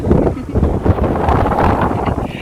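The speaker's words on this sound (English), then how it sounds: "It's got a bit windy again." Strong gusty wind buffets the microphone on a hike near Wellow, Isle of Wight, a constant roaring rumble with fluttering bursts throughout.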